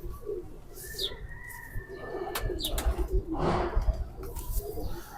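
Sabz Chena pigeons coo softly and repeatedly at close range, with a few chirps and light rustling among the birds in the background.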